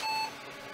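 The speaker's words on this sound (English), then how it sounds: "Beep." A single short electronic beep from a computer during Windows 98 setup on a Pentium II machine, clear and steady for a fraction of a second, then fading into faint background hum.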